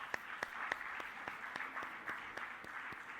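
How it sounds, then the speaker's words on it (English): An audience at a government state tourism conclave in Mumbai applauds Maharashtra's tourism minister, a steady wash of moderately distant crowd clapping with scattered sharper individual claps. "I would request each one of you to please make a huge round of applause for him"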